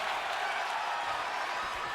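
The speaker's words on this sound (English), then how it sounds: "Oh, big roar of the crowd." A large crowd roars steadily at a professional wrestling show, a loud sustained wash of cheering and noise with no break across the whole moment.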